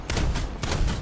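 Cannon fire from a Swedish Lvtdgb M/40 tank in War Thunder, two heavy booming shots in quick succession, loud and close.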